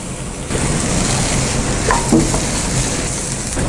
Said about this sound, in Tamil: சிம்மில் வச்சுட்டு பொறுமையாக கிளறி விடலாம்